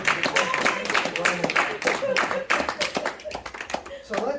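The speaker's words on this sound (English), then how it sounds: "Big round of applause for the" An audience at a Fringe Festival magic show claps for the volunteers, close, crisp handclaps in an uneven burst with a few people talking over it.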